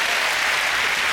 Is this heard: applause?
yes